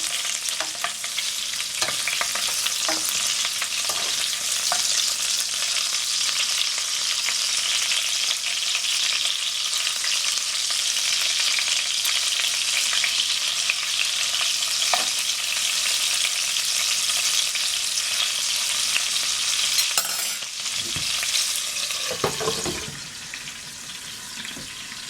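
Meatballs frying in a pan give off a steady, dense sizzle that runs unbroken for a long stretch, with a few faint clicks, before easing slightly near the end.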